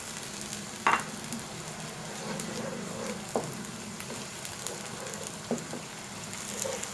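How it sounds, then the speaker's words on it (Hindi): Sliced onions fry with ginger garlic paste for a chicken keema, a steady close sizzle with occasional scraping stirs and spoon taps against the pan. "जिंजर गार्लिक पेस्ट मिला के आपने इसको 1 मिनट फ्राई कर लेना है"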